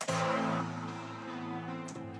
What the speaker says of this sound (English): We're going to go ahead and record that Prophet sound.